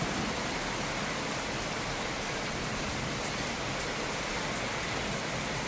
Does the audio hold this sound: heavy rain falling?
yes